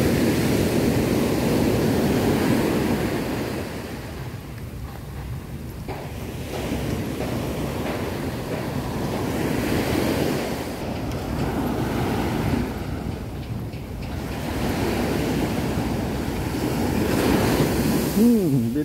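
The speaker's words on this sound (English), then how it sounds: "Right now, really big waves." Big ocean waves roll and crash at Nha Trang beach in Vietnam, a loud, continuous surging roar that swells and recedes over and over, with wind buffeting the microphone.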